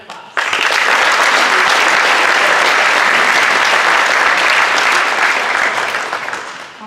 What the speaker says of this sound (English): So everybody give Annika a round of applause